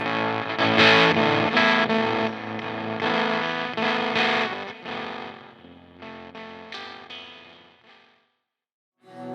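Electric guitar played through a Polar Bear Effects fuzz pedal, thick saturated distorted chords ringing out in bursts, then decaying into silence before one more strum at the end.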